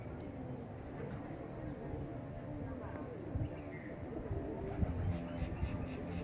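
Pigeons coo at a breeder's loft in a low, murmuring chorus over rustling background noise, with occasional soft bird calls and no clear talking.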